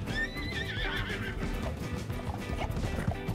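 Horse in the video game Red Dead Online gives a loud whinny at the start, then galloping hooves clatter continuously underneath.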